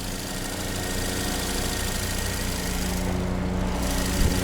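A 2021 Kia Forte GT's 1.6-liter turbocharged 201-horsepower engine with automatic transmission drones steadily from inside the cabin, a loud, even hum with no talk over it.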